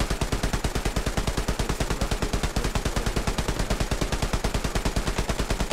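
Fast, steady machine-gun fire in a WWII tank video game, a loud, evenly spaced rattle of shots running continuously without pause.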